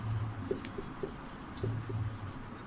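Writing on a board during a Class VII Sanskrit lesson gives soft scratching strokes with light, regularly spaced taps, faint and close, with no talk.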